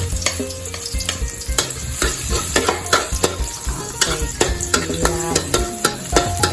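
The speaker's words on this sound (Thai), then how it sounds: "ใส่กระเทียมเจียวลงไปเลยจ้า" Garlic frying in hot oil with a steady crackling sizzle, a utensil stirring and scraping the pan up close.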